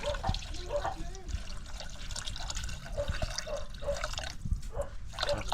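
Water is poured into a cooking pot for fish soup, a soft steady trickle and splash under a quiet background with light kitchen clatter.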